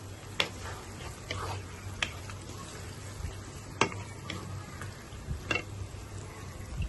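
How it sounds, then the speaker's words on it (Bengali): A cup of chopped onions fries in a cup of oil until crisp for a beef and chana dal bhuna, a low steady bubbling sizzle over a hum with occasional light clicks and taps. "এবার এটাকে বেরেস্তা করব।"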